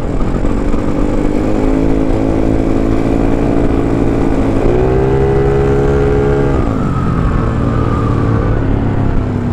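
A Honda Vario motor scooter speeds along at night, its engine droning steadily and close. The pitch climbs and shifts through the run, with no voices.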